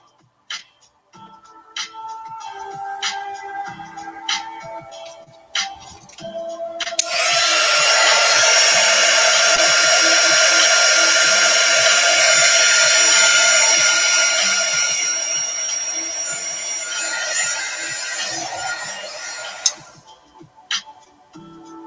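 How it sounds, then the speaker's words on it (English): Heat gun running at close range, used while working on a diorama: a loud, steady blowing roar that lasts about twelve seconds amid light clicking and handling noises, then cuts off. "Heat gun."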